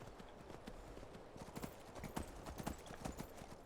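Faint, quick clip-clopping of horse hooves in the video game Skyrim, an irregular patter of hoofbeats over a soft background.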